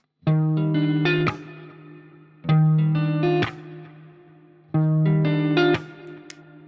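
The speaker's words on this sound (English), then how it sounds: "basically a snare drum, but with our right hand. It's going to sound like this." Three fingerpicked guitar chords in a repeating pattern, each followed by a sharp percussive right-hand slap like a snare drum, ringing out with short pauses in between.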